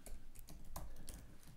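Computer keyboard keys tapped while a reply about a 360 photo booth flight case is typed, a quick irregular run of soft close clicks at low level with no talking.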